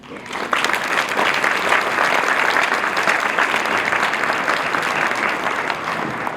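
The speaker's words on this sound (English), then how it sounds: "Please join me in giving another round of applause." A banquet audience at an awards celebration applauds sponsors and supporters, a full, sustained round of clapping from a large crowd that swells in and holds steady, with faint voices beneath.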